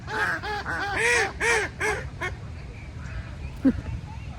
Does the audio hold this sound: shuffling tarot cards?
no